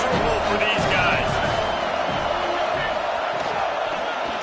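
Stadium crowd noise from a college football game with Nebraska facing USC, a loud, dense roar that holds steady throughout under a commentator's voice.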